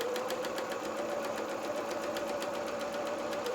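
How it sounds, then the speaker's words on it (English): A sewing machine reverse stitches a quarter-inch seam on doll trousers, a close, continuous fast needle hum with an even rapid pulse and no talk. "Let's reverse stitch there."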